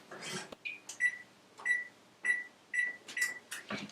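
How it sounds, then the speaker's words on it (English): Oven being switched on and set to 425, a series of six short electronic beeps from the control panel, with soft clicks and handling noise between them. "So the first thing I want to do for my okra is turn my oven on to 425."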